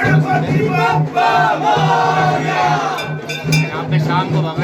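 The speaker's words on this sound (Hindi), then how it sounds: "भक्तों की भीड़ आप देखी जाए जैसे शोर और उल्लास से भगवान की पूजा करने के लिए आए जा रहे हैं" A crowd of devotees at a Ganesh temple near Lal Darwaza in a bangle market, a steady murmur of many voices and cheering, with people talking over it.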